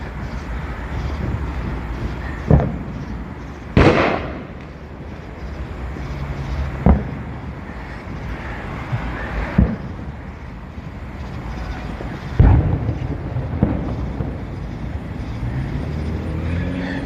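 Fourth of July fireworks go off somewhere across the street in a city, heard outdoors among buildings as a handful of distant booms and cracks spaced several seconds apart over steady background hum, with one whistling rise.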